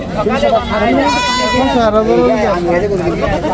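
A goat brought to a village market for sale bleats in long, wavering cries, loud and close, with people chattering in the background.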